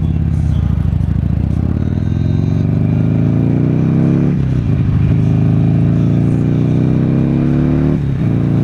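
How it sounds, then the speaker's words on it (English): A Buell XB9R Firebolt motorcycle engine rises through the gears in loud, close accelerating sweeps, briefly dropping at each shift before climbing again. "Boy, listen to that motor."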